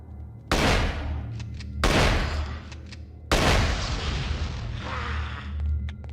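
Gunshots in the PS2 game X-Files: Resist or Serve: three loud, booming blasts spaced a second or so apart, each trailing into a long rumbling, crackling decay close up.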